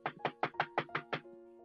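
Seven heavy bangs in a steady, quick rhythm, loud and close, struck as a yes signal by a caller during an emergency 911 call, then a brief quiet tail.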